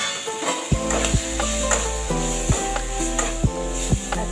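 Prawns are stirred and sautéed in a pan: steady sizzling frying with a spatula knocking against the pan in a regular rhythm, close and clear, over faint background music.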